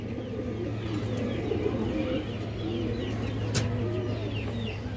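A Kaldom high-flyer female pigeon coos in soft repeated low calls, with a steady hum underneath and a brief sharp click near the end.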